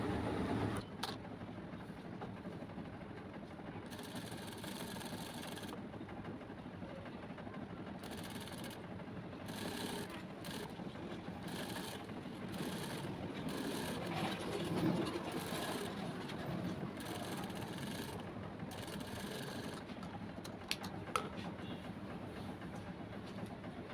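A sewing machine stitches a shirt's body panel, a steady mechanical whir with repeated short bursts of faster running that start and stop through the passage, close and fairly quiet.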